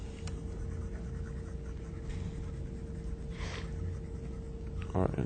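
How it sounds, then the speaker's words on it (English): Soft scrubbing of an eraser across a board in a power electronics lecture room, faint swishes over steady room hum, with a brief clatter at the end. "let me erase this."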